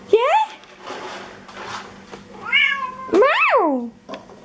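A cat meows several times nearby, rising and falling high-pitched calls, with soft human speech in between.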